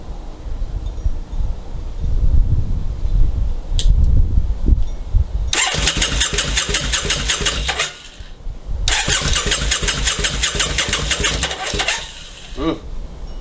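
A motorcycle engine with its choke pulled out cranks in rapid, rattling bursts, two long loud starter runs separated by a short pause, each nearly catching, after quieter handling noises at the start.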